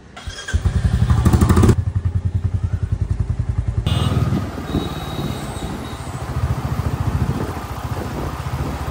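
A motorcycle ridden through city traffic toward Lake Market in Kolkata on a hot day gives a loud, close, steady engine throb with rhythmic pulsing and occasional rattles, and no voices over it.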